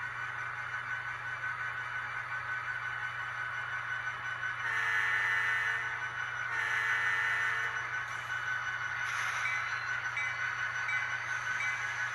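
An HO scale ScaleTrains EMD SD40-2 model locomotive in Burlington Northern livery runs slowly, a steady faint motor whine and hum with soft mechanical clicks and brief tonal shifts, heard alone without talk.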